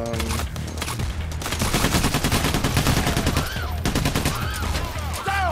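Rapid, rhythmic automatic gunfire crackles nonstop through a heist firefight in Payday: The Heist, loud and close over a steady backing music track.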